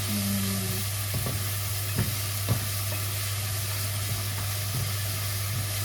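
Chopped onions with a little salt sautéing in a pan, giving a steady soft sizzle and a constant low hum, with a few faint taps from stirring.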